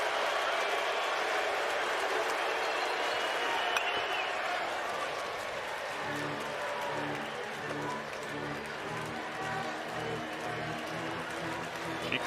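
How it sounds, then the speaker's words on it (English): A baseball stadium crowd at the 2023 College World Series finals between LSU and Florida roars and applauds in a dense, sustained wash, with a commentator talking over it. "Crowd comes to its feet again here in the bottom of the 9th of a 3-3 game."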